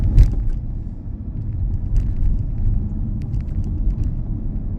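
A car pulls away during a UK driving test, a steady low engine and road rumble heard from inside the cabin with a few faint clicks and knocks.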